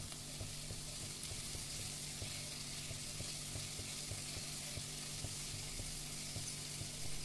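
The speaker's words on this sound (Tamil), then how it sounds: "இந்த மசாலாவுக்கு அரை ஸ்பூன் இஞ்சி பூண்டு பேஸ்ட்டு சேர்த்து அதையும் வதக்கிக்கிடணுங்க" Masala with ginger garlic paste sizzles steadily in a hot pan for egg kothu dosa, a constant close frying hiss with faint stirring scrapes and no voices.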